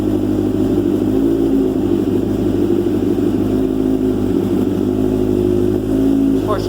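Engine of a Banshee ZX7R 750cc, started cold after four months, runs with a loud, steady, close drone and a faint rise near the end, with speech over it.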